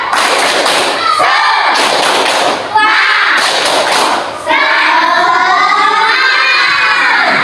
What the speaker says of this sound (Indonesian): mari kita tepuk semangat bersama-sama. Tepuk semangat.